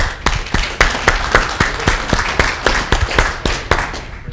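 Applause from a small conference audience at an industry talk on IT/OT convergence: steady, fairly loud claps at a quick, even pace from a handful of people, with no talking over them.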